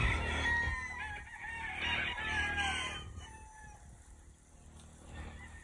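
A rooster crows loudly up close, followed by quieter clucking from hens in the background, no speech.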